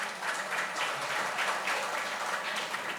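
A crowd applauds Gajanan Kirtikar at a Shiv Sena foundation day gathering in Goa, a steady wash of many hands clapping at a distance, continuous for several seconds.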